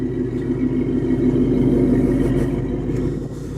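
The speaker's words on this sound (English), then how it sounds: "You can hear that great sound of Flowmaster exhaust." A pickup's aftermarket Flowmaster exhaust rumbles deep and steady at idle, swelling briefly in a mild rev before settling back, close and loud.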